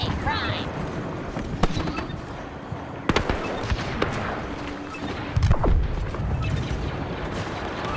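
Grenade blast amid a Star Wars Battlefront II battle, a dull boom with scattered shots and crackling over constant combat noise while voices talk.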